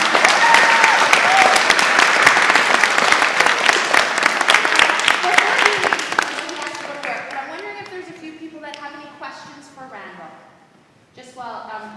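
A school assembly audience applauds loudly for a guest, steady clapping that fades after several seconds as voices and a child's speech take over near the end.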